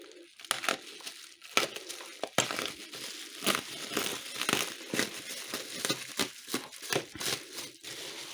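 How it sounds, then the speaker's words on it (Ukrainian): Packaging crinkling and rustling as a parcel from Japan holding Nintendo Famicom consoles and cartridges is opened, with irregular close crackles and tearing bursts throughout. "Зараз його обережно відкриємо."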